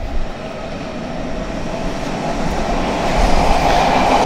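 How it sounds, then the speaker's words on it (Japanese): An Odakyu Line train passes close by with a steady, loud rumble and rattle of wheels on rails that grows stronger toward the end, with no voices. "ここから結構小田急線が見えますね"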